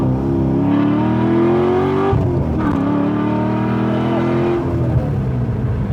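An LS-swapped Porsche 911 with a custom exhaust rumbles loudly and continuously, its engine note rising and falling through gear changes as it drives nearby.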